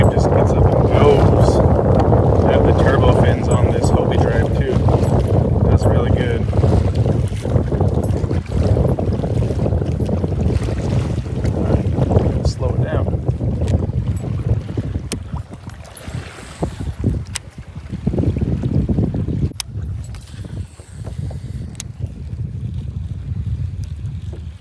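A Vibe kayak fitted with turbo fins moves across a lake, giving a continuous rushing, sloshing wash with wind buffeting on the microphone, steady and close, easing slightly toward the end.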